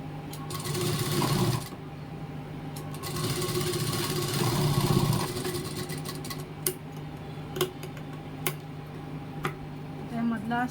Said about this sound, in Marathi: ह्याला फोल्ड करून आपण शिलाई मारून घेऊया